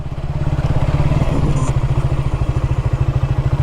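A motorcycle engine runs close and loud on a rough rural field road. It gives a steady, rapid thumping pulse with a slight clatter throughout.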